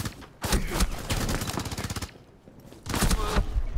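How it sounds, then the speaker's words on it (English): P90 bursts in a first-person shooter video game: rapid automatic fire in two long strings with a short pause between, loud and close, a voice briefly audible underneath. "He put so many bullets into him, and I lit him up so much."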